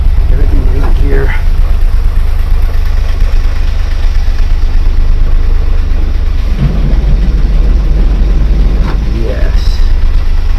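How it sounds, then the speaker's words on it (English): A 1951 Willys Wagon four-wheel-drive engine idles in a steady low rumble throughout, with faint voices and small knocks in the background. "the engine started"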